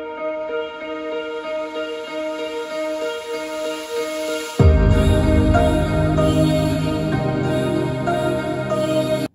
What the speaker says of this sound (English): what you're hearing there is a vocal chop with a ton of reverb